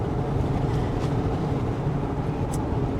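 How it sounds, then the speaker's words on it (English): Steady, heavy wind rumble buffets through an open car window while driving on a Western Queensland road, a dense low roar filling the whole stretch with no clear voices. "Sorry about the wind noise"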